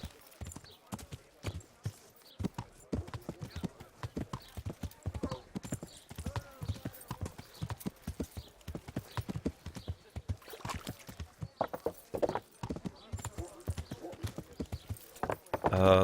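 Steady clip-clop of horse hooves from Kingdom Come: Deliverance, a brisk even rhythm of hoofbeats running the whole stretch with faint background game ambience.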